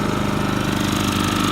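A Champion dual fuel inverter generator runs on propane in economy mode, its engine giving a steady, close, moderately loud hum with a fast, even pulsing throb and no break.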